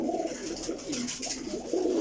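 Royal Teddy pigeons in a breeder's loft coo in rolling, throaty phrases, several birds overlapping close by in a continuous low murmur without talk.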